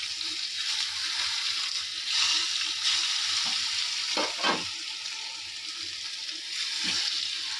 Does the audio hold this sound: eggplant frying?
yes